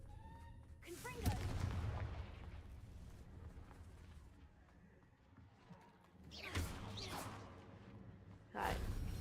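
Confringo fire-blast spell from Hogwarts Legacy, cast in a ruined area: loud booming impacts, one early, two more around six and seven seconds and a final one at the end, over a rumbling game background.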